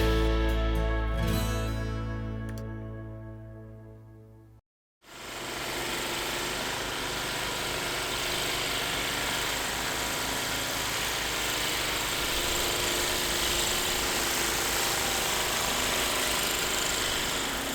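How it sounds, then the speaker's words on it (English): A snow blower drones steadily while clearing a neighbor's driveway, a continuous engine hum heard from a short distance after a brief cut. "snow blowing our neighbors out"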